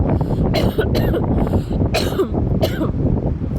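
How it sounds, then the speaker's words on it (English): Several harsh coughs burst out close by, spaced unevenly over a few seconds, with a noisy, windy background. "I'm going to cough right now."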